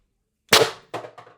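A hot-rodded Beeman BP50 air pistol fires a 9 g, 12.7 mm brass ball: one sharp close crack after silence, followed by two quicker metallic clatters.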